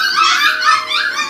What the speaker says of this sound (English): Every time I talk, they start barking over there.